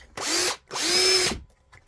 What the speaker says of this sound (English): Just drill holes.